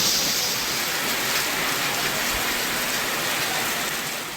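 Heavy rain with strong wind in Tamil Nadu, near Palani, pours as a dense, constant roar of water hitting surfaces, loud and unbroken throughout with no voices.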